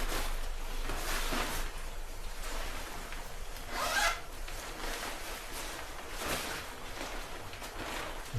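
A zipper on Nelson Rigg rain pants is pulled open in a series of short raspy strokes, close and fairly quiet, with no talking.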